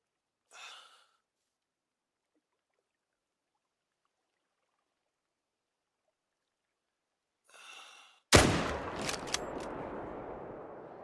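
A single loud .303 rifle shot in the hunting game theHunter: Call of the Wild, a sharp crack followed by a long rolling echo, preceded by two faint breaths or rustles in near silence.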